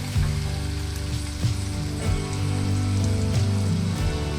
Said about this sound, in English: We're going to get the potatoes, carrots, onion in here, and we slowly saute these.